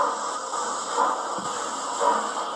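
A Hornby Black 5 model steam locomotive's sound decoder gives a steady, even hiss from its steam generator, continuous and fairly loud with slight swells, and no talking.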